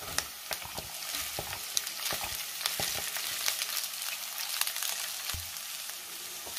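Capsicum sautéing in a hot pan, a steady bright sizzle and crackle close up, with occasional scrapes and taps as it is stirred.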